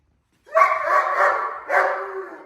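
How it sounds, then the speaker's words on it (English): A German Shepherd barks on command in a long, rough, sustained bark, then a second shorter bark after a brief pause. It is close and loud. "with just a little stimulation from the helper, this dog will continue to bark, right?"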